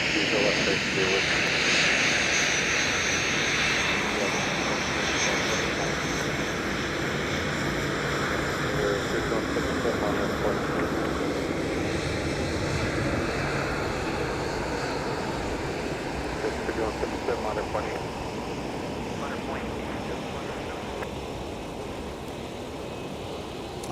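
A fixed-wing plane arrives on runway 30 Left at Minneapolis–St. Paul airport on a winter day, its engines giving a steady, loud broadband roar that holds for the whole stretch and fades slightly toward the end.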